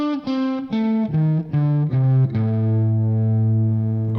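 Distorted electric guitar played alone, walking down a scale note by note in a steady rhythm before landing on a long sustained final note, loud and close.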